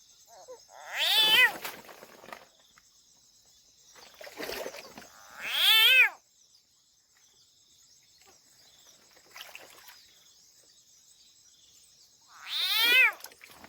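A frog caught by a snake cries out in a village setting, giving shrill, wavering, cat-like wails in three or four separate bursts spaced several seconds apart, with near silence and a faint steady high whine between them.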